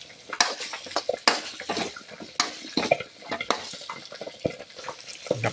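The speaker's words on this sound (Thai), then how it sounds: "ใส่น้ำไปสักหน่อยครับ น้ำเปล่าสักหน่อยนะครับ" Plain water poured into a pan of crispy fried catfish stir-fry with herbs, amid loud clattering of a utensil scraping and stirring the pan, irregular close knocks and sizzling bursts without speech.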